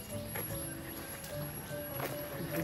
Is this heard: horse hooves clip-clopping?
yes